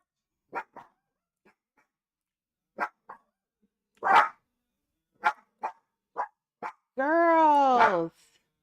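Dogs bark indoors in short, sharp, scattered yaps, some single and some in pairs, ending with a longer drawn-out howling whine.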